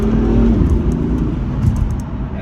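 BMW F82 M4 accelerating hard with turbo boost, a loud, steady engine roar with rising pull throughout, heard close from inside the car with no talking.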